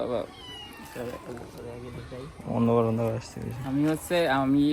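A cat meows repeatedly, close and clear, with several drawn-out calls rising and falling across the clip; a person speaks in between.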